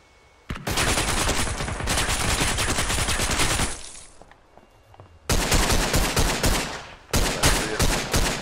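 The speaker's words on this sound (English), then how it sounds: "Stop shooting through windows." Sustained automatic gunfire from the tactical shooter Ground Branch, loud and close, with rapid continuous bursts broken by a short lull before more rattling volleys resume.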